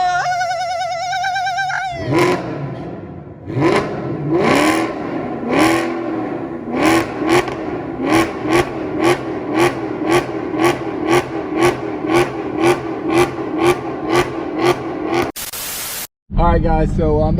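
Maserati GranTurismo S with its exhaust valves open, revving hard in a rapid series of loud, close throttle blips after an initial sustained roar, with a brief excited voice.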